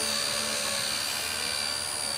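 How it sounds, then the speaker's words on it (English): An XK K123 AS350 RC helicopter hovering with its tail rotor straining, a steady, close, high-pitched electric whine and rushing buzz that holds constant throughout with no voices. "The tail rotor's working its guts out."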